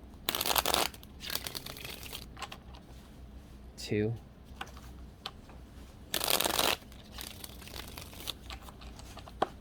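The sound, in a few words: tarot cards being shuffled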